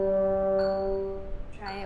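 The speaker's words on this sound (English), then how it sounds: "We're going to hold our E for two clicks and then immediately go to our D for two clicks" A French horn holds a steady, rich sustained note that then shifts down to a lower one, with a faint metronome click in the background and a brief noisy attack as the note changes.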